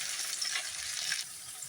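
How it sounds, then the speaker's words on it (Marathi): Spring rolls deep frying in hot oil over low heat, a steady close bubbling sizzle with soft crackles, no voices. "मस्त असं तळलं जाते."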